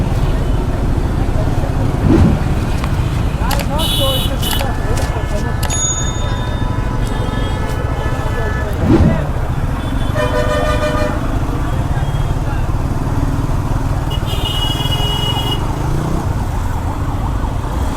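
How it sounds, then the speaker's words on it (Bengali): Dense traffic jam at the Kuril Flyover in Dhaka, a steady roar of engines with scattered car horns, bicycle bells and a siren-like tone cutting through, and voices talking at points. "আমি কুড়িল ফ্লাইওভার থেকে দেখতেছি মোড় পর্যন্ত আপনার জ্যাম হয়ে রয়েছে"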